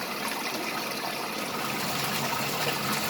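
Steady rushing water pours continuously as a washing machine fills, a full broadband gush, close and constant with no voices.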